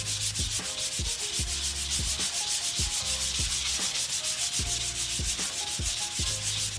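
Sandpaper rubbed by hand over Bondo body filler on a car body panel, working up through finer grits; steady rhythmic back-and-forth strokes, close and loud, with no talking.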